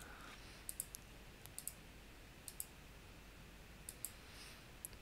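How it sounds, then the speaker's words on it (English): Faint, crisp clicks from a computer keyboard or mouse in quiet room tone, coming singly and in quick pairs across a few seconds. "Now we click return."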